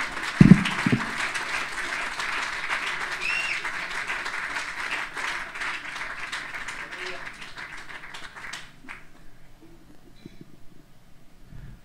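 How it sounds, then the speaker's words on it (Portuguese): Church congregation applauding during a service, a steady wash of clapping with a few sharp close claps at the start, gradually thinning and fading out toward the end. "Levanta-te e dá-lhe um aplauso."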